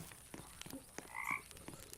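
Frogs croaking in the Roblox game 99 Nights in the Forest, a faint ambient scene with a couple of short croaks and scattered soft clicks, distant and quiet.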